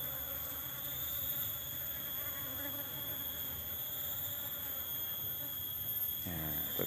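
Honey bees buzz steadily around fermented tape bait wrapped in banana leaf, a dense continuous droning swarm close by, with a brief voice near the end.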